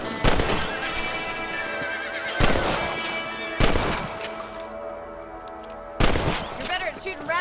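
Horses in the Red Dead Redemption game neigh and whinny in several sharp bursts spaced through the scene, over a busy game soundscape with faint hoofbeats.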